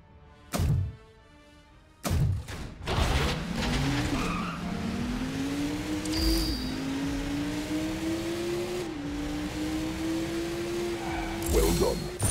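A car in the Transformers Revenge of the Fallen video game starts with heavy thuds, then drives off with a steady engine hum that rises and shifts, tyres skidding at times, near and fairly loud.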